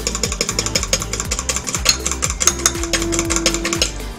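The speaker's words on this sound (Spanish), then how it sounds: "Se la agregamos a la mezcla y seguimos batiendo." Oat pancake batter with chia seeds is whisked in a bowl, a rapid, steady run of close clinking and scraping strokes with music playing underneath.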